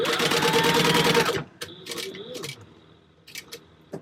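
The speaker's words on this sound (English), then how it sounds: "About 1/4 inch we're just going to base stitch, top stitch, down each side" Sewing machine top stitching the sides of a fabric D-ring connector runs in a loud close burst, then stops, followed by faint clicks and handling of the machine.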